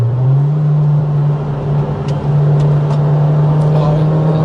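A first-generation Ford Fiesta ST Mk5 ST150 hot hatch holds a steady, loud engine drone from inside the car, and a voice talks faintly beneath it.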